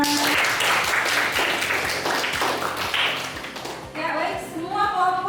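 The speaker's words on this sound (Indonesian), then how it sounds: "tepuk tangan" A crowd claps in sustained applause for several seconds, dense and fairly loud, with voices murmuring underneath before it tapers off.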